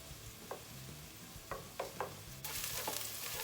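Onions and garlic softening in a pan for potato soup crackle faintly, with a few scraping stir clicks. The sizzle grows louder and brighter partway through.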